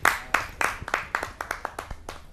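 A small audience at a televised kavi sammelan claps to welcome a poet, with uneven bursts of several hands overlapping briefly and close by.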